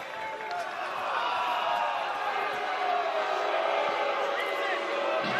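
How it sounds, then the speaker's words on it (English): Home crowd at a Major League Rugby match in Charlotte, a broad sustained roar of jeers and shouts filling the stadium, steady and fairly distant throughout. "And some jeers from the home Charlotte crowd."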